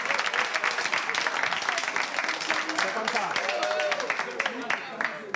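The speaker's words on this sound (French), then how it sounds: "On l'applaudit, s'il vous plaît." A studio audience applauds on a French television game show, lively continuous clapping that stays loud throughout while a host speaks over it.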